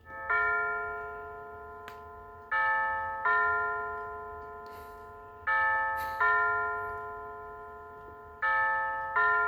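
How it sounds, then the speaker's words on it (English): A schoolhouse regulator clock's chime box rings ding-dong chimes: pairs of resonant, bell-like electronic tones that strike and decay in a slow repeating pattern, clear and close with no talking. "And now the ding dong chimes."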